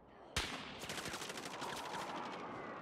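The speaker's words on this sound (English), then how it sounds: "You gotta shoot him." Gunfire in the video game Call of Duty: Warzone, heard fairly faint: one sharp shot, then a rapid automatic burst that rattles on steadily to the end.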